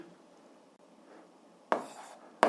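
A pen scratching across paper while writing out an algebra solution, quiet and near, with a couple of short, louder strokes near the end after a faint rustling stretch.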